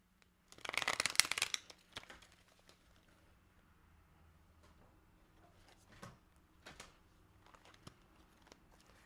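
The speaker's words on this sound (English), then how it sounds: "Let me shuffle." A brief riffle of tarot cards being shuffled up close, followed by quiet, scattered taps and soft card handling.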